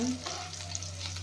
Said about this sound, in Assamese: এইখিনি ভালকৈ ভাজি লৈ ৰং গুড়া, অলপমান জিৰা জালুকৰ গুড়া দি ল'ম।